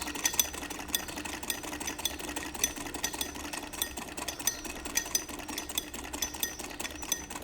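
A sewing machine runs steadily through stitching on a shalwar during a beginner tailoring lesson, producing a continuous fast mechanical rattle throughout with no voices.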